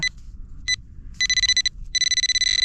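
A metal detector's high electronic beeping tone pulses in short bursts, then sustains in longer stuttering runs over a faint low background rumble, signalling a small coin.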